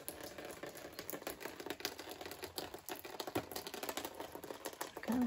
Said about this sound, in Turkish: Misler gibi yağıyor.